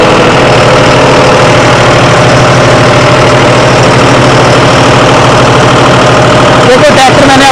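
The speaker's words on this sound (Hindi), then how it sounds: "देखो ट्रैक्टर मैंने आपको बताया था 50 आरपीएम दौड़ता है, 50 आरपीएम ड्रॉप कर रहा है।" A John Deere tractor engine runs loudly and steadily close by, its RPM dropping, with a rough knocking throb under continuous noise and a short clattering burst near the end.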